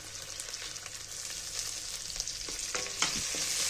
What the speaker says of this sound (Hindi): अब हम इसमें ग्रीन चिली डाल देंगे।